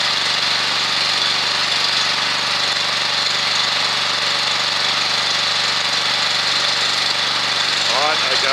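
A Powerguard ACP300 pump machine runs with a steady, loud mechanical drone and hum that holds unchanged throughout, close by.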